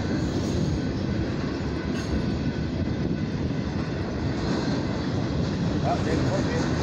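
A military freight train rumbles past in Tulsa, Oklahoma, with continuous rolling clatter of wheels on rails, loud and steady, with faint voices underneath.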